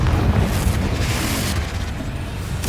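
A Confringo fire spell explodes in Hogwarts Legacy, a loud sustained booming blast with a dense rumbling roar lasting nearly three seconds and no pause.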